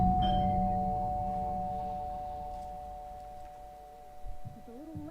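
A doorbell chimes in the video game Alan Wake 2 with a clear two-tone ding-dong that rings out and fades slowly, and a low hum continues beneath it.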